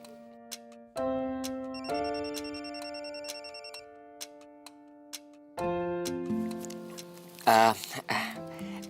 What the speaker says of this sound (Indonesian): Aku terima telepon dari papi aku.